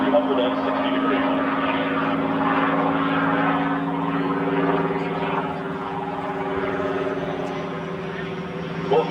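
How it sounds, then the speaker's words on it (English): A restored World War II Spitfire fighter rolls slowly through 360 degrees above an airport, its propeller engine a steady, loud drone with a strong low hum that holds throughout without pause. "There's a full roll at the airport. Rolling the airplane slowly through 360 degrees."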